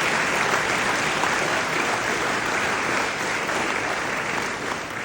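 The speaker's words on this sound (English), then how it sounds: "Let's give Gregory a round of applause on that" A political event crowd at the Iowa Democratic Wing Ding gives a full, sustained round of applause, dense and even clapping from a large audience lasting the whole stretch with no talk over it.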